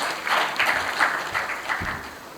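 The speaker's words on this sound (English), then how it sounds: "I think he deserves a round of applause." An audience at a youth parliament event gives a round of applause, moderately loud scattered clapping that rises and falls over a couple of seconds.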